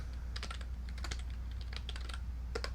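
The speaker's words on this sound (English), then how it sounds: "and then I type in some code" Typing code on a computer keyboard in a C# Visual Studio setup: bursts of quick, close keystrokes clatter in uneven clusters over a low steady hum, with no voices.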